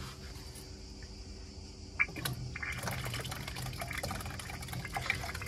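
Sparkling water pours from a sensor-operated dispenser as a steady hissing, fizzing stream that begins about two seconds in and runs on over a low background hum.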